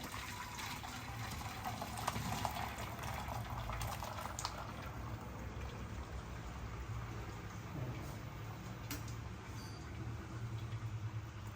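Hot water poured off boiled raw mango pieces through a colander, a steady rushing and splashing stream lasting the whole time, close and fairly loud, with no voices.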